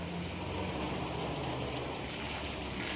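Heavy unseasonal summer downpour in Vadnagar, Gujarat, a loud uninterrupted roar of rain on surfaces that stays steady for the whole stretch, with no speech.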